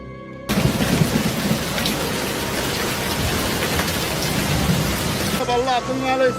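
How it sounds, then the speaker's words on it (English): During flooding, heavy rain pours down in a dense, steady hiss with strong wind and a deep rumble beneath it, loud and continuous until it gives way to a brief burst of voices. "heavy rain and strong winds continue to obscure visibility and compound the dangers"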